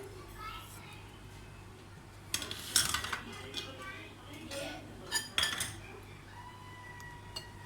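A spoon scrapes and clinks against a dish as mashed dal dahi baray is mixed with salt, crushed red chili and other spices. The clatter comes in short bursts, with a voice and children faintly in the background.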